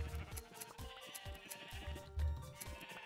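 Sheep bleating in a video game: several short, nasal bleats overlapping one another in quick succession, moderately near, with no voices.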